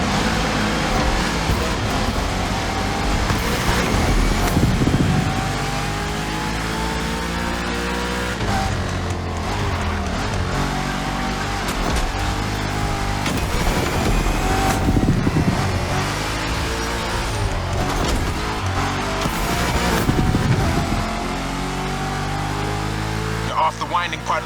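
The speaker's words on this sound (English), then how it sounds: "Now you can let the supercharged V8 do the talking." Supercharged V8 car engine in The Crew Motorfest racing game, a steady loud drone with repeated rising revs and gear shifts, continuous throughout.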